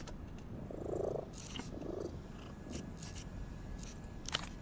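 A cat purrs close up in soft, low, rhythmic rumbles that come in breathy pulses. The room around it is otherwise quiet apart from a few light clicks and rustles.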